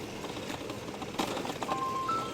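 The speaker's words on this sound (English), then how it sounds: "You can hear my cell phone going off there." A faint electronic cell phone ring, a thin steady tone in short bursts, under outdoor background noise during a bicycle ride in Venice, California.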